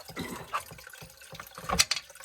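A whole-house water filter cartridge is dunked into a bucket of water, giving a few close, brief splashes and sloshes with short gaps between them.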